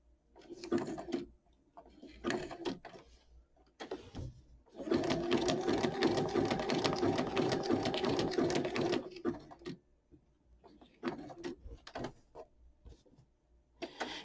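A sewing machine stitches through a paper tag for a junk journal page. It runs in a few short bursts, then in one steady, close whirring run of several seconds, with soft handling clicks between runs and no speech.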